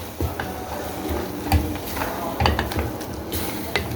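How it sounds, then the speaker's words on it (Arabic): Minced meat with tomato sauce is stirred in a pan for Egyptian béchamel pasta: a steady sizzle broken by scraping and clinking spoon-against-pan strokes, close and fairly loud. "هنبدا نقلب اللحمه بتاعتنا اهو"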